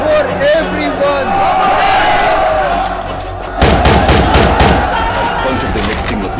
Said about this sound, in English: AK-47s for everyone!